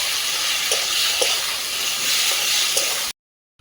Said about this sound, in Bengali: এই সোয়াবিন বাটাটা আমি দিয়ে দিচ্ছি এটা সুন্দর করে একদম তেলের সঙ্গে নাড়িয়ে নেব